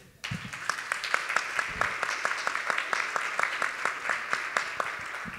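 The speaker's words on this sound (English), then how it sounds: "we should give them a huge round of applause right now for doing that" Applause breaks out for panelists at a pediatric innovation panel discussion, starting abruptly then settling into a steady, fairly sparse rhythm of distinct hand claps, with a faint voice early on.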